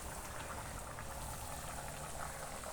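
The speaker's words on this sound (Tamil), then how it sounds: "நல்ல கொதி கொதிக்குது" Water bubbles at a rolling boil in a pot, a steady, dense churning hiss that holds constant throughout with no voices.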